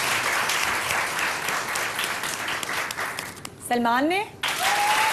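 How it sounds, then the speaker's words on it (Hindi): A studio audience on a Pakistani morning TV show bursts into dense applause as a host speaks over it, with a brief electronic sweep and a whistle-like tone cutting through near the end. "आपकी तालियां बताएंगी कि किसने ज्यादा अच्छा रोमांस किया"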